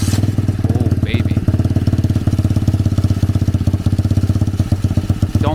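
A drift trike converted from a dirt bike idles and chugs loudly with a steady rapid pulse, its loose sheet metal rattling along throughout.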